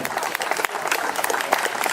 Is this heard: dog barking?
no